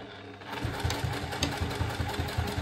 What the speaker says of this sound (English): So I will backstitch at the beginning,